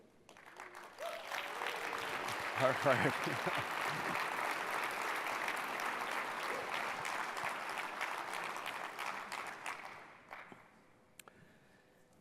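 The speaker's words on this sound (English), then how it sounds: "please stand up for an applause, too" Audience applause for award winners at a corporate innovation awards ceremony, a steady broad wash of clapping that swells to a peak early, holds for several seconds, then fades out, with a brief spoken remark.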